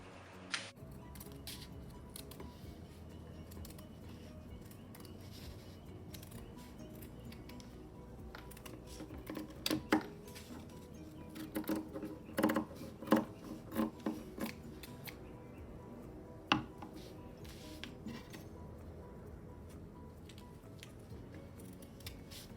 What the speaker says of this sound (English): Once it's secure, you're going to take your fabric scissors and cut it out.